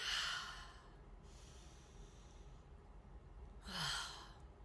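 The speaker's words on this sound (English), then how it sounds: "I just take 3 deep breaths" Slow, deep breaths, quiet and close, as a long breath at the start and another near the end sound alone over a faint, calm background.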